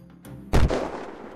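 A single sharp gunshot cracks out in the survival game Unturned during a PvP fight on a crowded server, loud and close, with a short rumbling tail after the bang.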